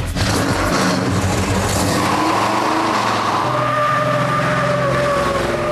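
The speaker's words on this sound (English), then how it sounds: "But the best thing about this car is the noise." A V8 muscle car engine, the General Lee, roars loudly and continuously, its pitch shifting as it revs, with a squealing whine riding over the rumble.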